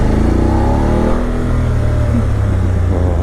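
A BMW F850GSA low-chassis adventure motorcycle's engine revs, a loud, steady mid-pitched drone with wind rush, heard continuously from the rider's position while underway.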